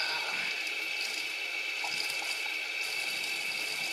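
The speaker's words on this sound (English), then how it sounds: "So I'm going to go ahead and rinse off." Water splashes and trickles steadily at close range during a face rinse after a winter facial, a continuous soft wash of running water with no voices.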